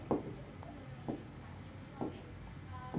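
Pen writing on paper during a Bengali accounting lesson, quiet scratchy strokes in short bursts roughly once a second, close and soft.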